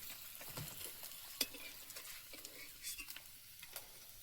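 Egg-laden lata fish frying in oil in a wok, a quiet, close sizzle broken by scattered sharp pops and crackles, with occasional stirring clicks and no voices.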